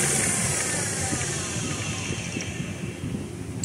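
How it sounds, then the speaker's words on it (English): An automatic wood lathe motor runs steadily after being switched on, giving a continuous broadband whir with a faint high whine, heard close and alone at an even level. "Then we need to press this button. This we can check the motor rotating direction is correct or not."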